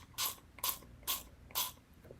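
Four short hissing bursts of a small spray bottle, evenly spaced about half a second apart, close and clear with no talking.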